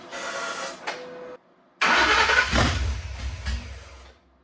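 A budget Ford Coyote V8 swapped into a car cranks briefly, falls silent, then fires up and runs with a loud, low, rumbling idle, close by and with no talking.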